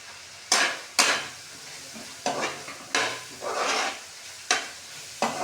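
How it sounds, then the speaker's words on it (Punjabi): Soya chunks tossed into a frying pan and stirred, with bursts of scraping and sizzling coming in irregular strokes every second or so, close and fairly loud, with no talking. "ਹੁਣ ਆਪਾਂ ਪਾਤਾ ਨਿਊਟਰੀ ਇੱਕ ਵਾਰੀ ਆਪਾਂ ਇਹਨੂੰ ਹਲਾਵਾਂਗੇ"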